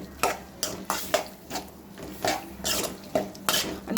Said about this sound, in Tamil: அந்த மூடி வைக்கிறோம் பாருங்கள்,